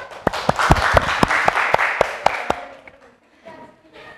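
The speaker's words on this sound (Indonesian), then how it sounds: "kasih tepuk tangan" A classroom claps together after a fiqh lesson, a burst of sharp, rhythmic hand claps that fades and thins out toward the end.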